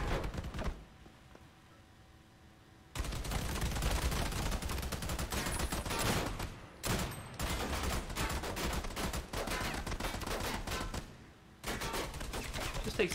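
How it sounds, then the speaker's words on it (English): Gunfire in the video game Army of Two, with long sustained bursts of rapid shots close and loud, broken by a few brief pauses. "Stop shooting the wall. Shoot the fuckers down there."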